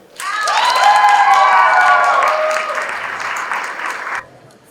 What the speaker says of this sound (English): a round of applause for all the students and especially alumni that are here with us tonight